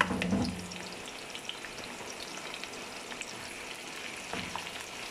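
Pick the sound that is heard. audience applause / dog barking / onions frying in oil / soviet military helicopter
onions frying in oil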